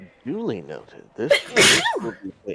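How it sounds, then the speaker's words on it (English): A single small, dainty sneeze bursts out sharply mid-conversation during an online tabletop role-playing game session, with people talking just before and after it. "Daintiest sneeze ever as well"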